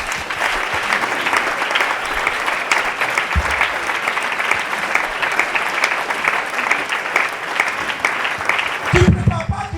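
Church congregation applauding at a sermon, dense sustained clapping throughout at steady loudness, with voices mixed in and a brief louder burst near the end.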